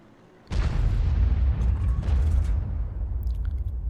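Artillery shell lands in a tank video game with a sudden close, heavy blast that rumbles on and slowly decays over a few seconds.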